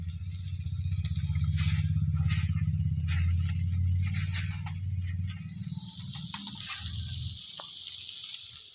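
Onion, garlic, cumin and radhuni seeds sizzle in hot oil, a steady close frying hiss that fades after several seconds, with scattered small pops and clinks on top.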